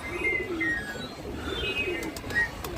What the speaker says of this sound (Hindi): ये कबूतर आया अचानक से बैठ गया